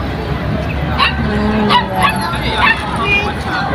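A small dog yips and barks in short bursts, several quick sharp barks over a steady crowd babble and background chatter in a busy public place.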